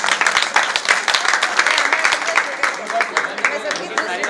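Wedding guests clap together during the ceremony, a dense and steady round of applause close by, with voices in the crowd mixed through it.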